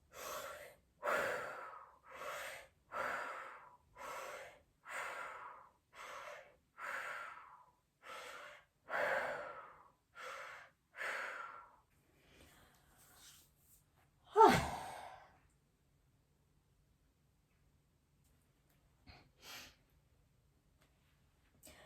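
Repeated heavy breaths during a fascial stretching exercise, about a dozen long, even exhales in a steady rhythm, followed by one sharp louder breath and a few faint ones, close and with no talking.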